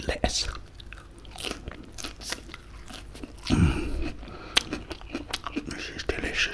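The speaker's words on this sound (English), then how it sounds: "I've got a nice piece here of crunchy lettuce." Several loud, close crunching bites into crisp lettuce from a chicken salad, followed by chewing, with soft speech between the bites.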